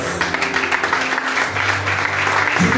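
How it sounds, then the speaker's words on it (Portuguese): A church congregation claps steadily throughout a service, a dense continuous wash of applause with a low tone underneath and no voices. "Diminuiu as palmas"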